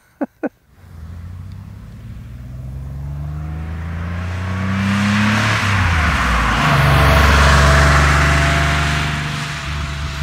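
A 1983 Porsche 911 SC Cabriolet engine starts after a couple of sharp clicks, then idles and revs as the car pulls away, the engine note rising and falling loudly throughout.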